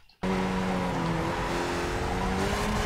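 A Skip Barber race car in iRacing, on the Barcelona National circuit, roars loud and close in a steady engine tone that falls through the gears with brief throttle blips, after a short quiet start.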